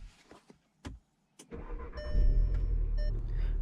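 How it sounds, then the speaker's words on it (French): A manual car is started: several sharp clicks and brief cranking bursts are followed by the engine catching with a loud rumble and then settling into a steady idle. "Avant de démarrer la voiture"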